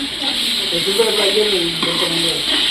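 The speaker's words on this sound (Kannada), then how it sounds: "ಮತ್ತೆ ಚೆನ್ನಾಗಿ ಮಿಕ್ಸ್ ಚೆನ್ನಾಗಿ ಮಿಕ್ಸ್ ಮಾಡ್ತಾ ಇದ್ದೀನಿ ನೋಡಿ ಗೈಸ್" Ground paste being stirred and mixed as it fries in a pan, a steady close sizzle with scraping from the stirring running throughout, and a faint voice heard in the background.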